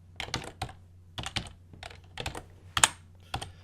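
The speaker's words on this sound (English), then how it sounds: "She's typing." Keys clatter on a computer keyboard as someone types code, in short bursts of close, crisp taps separated by brief pauses over a faint low hum.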